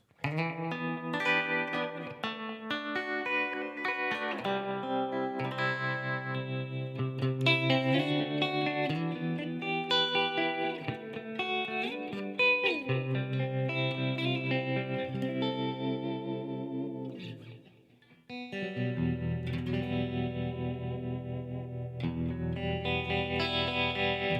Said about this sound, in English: It's a nice tremolo sound. Let me raise the reverb a little bit.